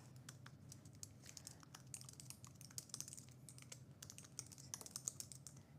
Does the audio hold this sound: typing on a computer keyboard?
yes